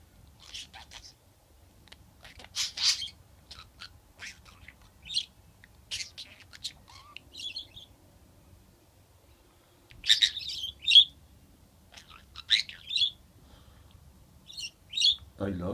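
A pet budgie chirps in short bright bursts and twitters, close and clear, scattered across a quiet indoor room with pauses between calls.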